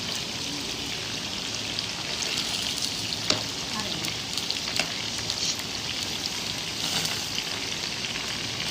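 Beef koftas fry in a pan with a dense, steady sizzle and spitting oil at close range, with occasional sharp pops and crackles throughout and no one speaking.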